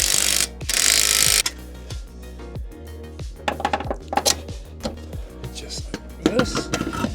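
A ratchet snugging the axle hub nut on a B16 VTEC-swapped Honda Civic, with rapid clicking bursts and metallic clanks in a garage, a voice speaking over part of it.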